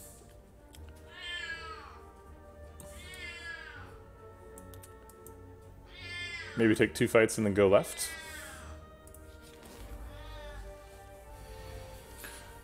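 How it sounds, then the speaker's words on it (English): A house cat meows several times in drawn-out, wavering cries, fairly close, with a short burst of louder rapid calls in the middle, while a person talks quietly over part of it. "here's a cat"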